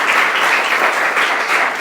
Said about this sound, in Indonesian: Tepuk tangan dulu untuk Juni.